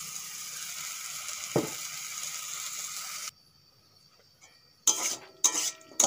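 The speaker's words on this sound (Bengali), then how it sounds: "টমেটো ভাজা হয়ে গেছে" Tomatoes fry in a pan for a dosa chutney, giving a steady close sizzle for about three seconds. The sizzle then cuts out, and a few sharp clinks of utensils follow.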